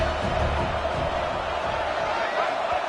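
A steady, dense roar of a stadium crowd in a college football video game swells as the offense lines up, a continuous wash of noise with no distinct cheers standing out.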